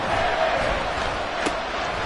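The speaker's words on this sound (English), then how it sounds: "Well, this crowd into it now." A football stadium crowd roars steadily throughout, a dense wash of cheering at a moderate distance with one brief thud near the end.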